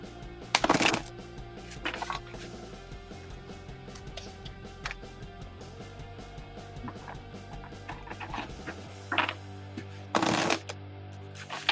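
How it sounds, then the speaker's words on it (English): Cards are riffled and shuffled several times, crisp fluttering bursts with quieter handling sounds between them, no talking. "Jessica, I'm shuffling for you right now."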